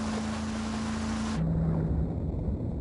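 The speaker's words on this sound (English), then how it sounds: "Why is this boat so slow?" Slow boat with three inboard engines in Grand Theft Auto: San Andreas, giving a steady low engine drone over rushing water and wind that shifts tone midway, with no talk.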